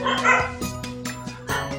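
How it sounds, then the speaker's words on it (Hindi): Several dogs barking in quick succession, sharp yips and barks repeating in an uneven rhythm, fairly loud and close. "बैकग्राउंड में कुत्ते बहुत भौंक रहे हैं"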